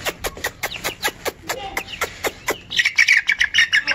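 Young pigeon chicks give repeated short, sharp calls in an uneven rhythm, close by, followed by a brief burst of higher, busier chirping near the end.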